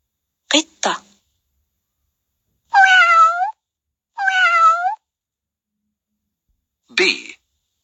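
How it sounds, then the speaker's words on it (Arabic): A domestic cat gives two clear, drawn-out meows a second or so apart, preceded and followed by short, crisp spoken words in a quiet setting. "cat."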